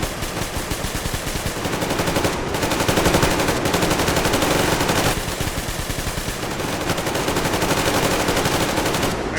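A machine gun in Metro Exodus emptying its ammo belt, loud sustained rapid-fire bursts rattling almost without pause, with two brief gaps before the stream of shots resumes until the end.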